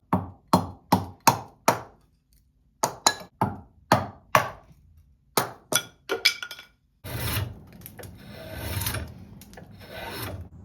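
Wooden scoop blank being trimmed thinner during carving, first a run of sharp, separate rasping strokes in quick bursts, then a longer, denser stretch of continuous scraping.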